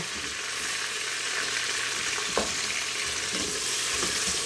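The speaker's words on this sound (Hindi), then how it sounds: "प्याज को साथ साथ फ्राई कर लें" Steady, loud sizzling of onions and mutton frying in a hot pan, with a brief clink of stirring partway through; no voices.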